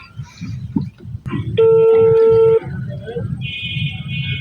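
A phone call rings out as a steady electronic tone lasting about a second, followed later by a higher beeping tone, with people talking around it.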